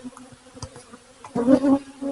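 A honeybee buzzes near a hive as a beekeeper releases it from a small cage during a hive inspection. Faint intermittent buzzing swells into a louder, sustained close-up drone in the second half.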